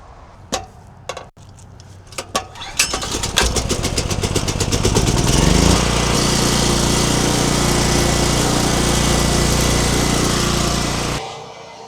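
A tenant's backup generator starts with several sputtering cranks, then catches and runs as a loud, steady engine drone for about eight seconds before cutting off near the end.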